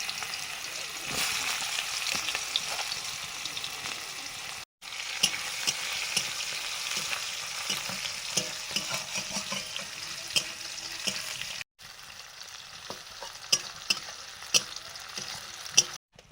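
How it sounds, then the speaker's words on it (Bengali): Nigella seeds, bay leaf, dried chili and chopped onion fry in hot oil for a fish curry, with a continuous close sizzle, spoon scrapes and stirring clatter, and two brief cuts in the sound. "একটু কালো জিরে দিয়েই করছি, তেজপাতা, শুকনো লঙ্কা, পেঁয়াজ কুচি"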